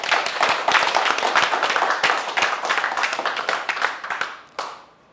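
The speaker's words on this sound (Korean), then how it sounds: "동의하시면 박수 한번 부탁드려요" An audience at a history lecture bursts into hearty clapping at the speaker's request, a loud, dense stretch of hand claps that holds for several seconds before tapering off to a few last claps.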